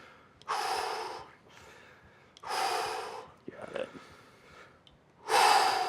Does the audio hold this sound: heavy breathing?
yes